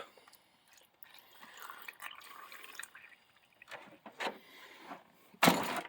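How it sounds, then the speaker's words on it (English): Water added to a rock tumbler barrel, faint trickling and dribbling over several seconds, broken by a few louder splashes and a sharp knock near the end. "Get some water up there to the top."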